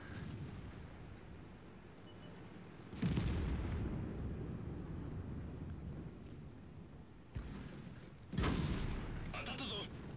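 A tank firing an armor-piercing shell in World of Tanks, two heavy booming shots several seconds apart over a steady rumbling battlefield background, with a voice talking.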